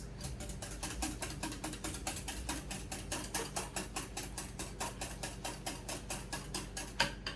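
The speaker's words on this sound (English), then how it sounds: "I'm gonna whisk." Milk is whisked in a bowl for bread pudding: a fast, steady rhythm of scraping clicks, about four strokes a second, held for several seconds at close range with no speech.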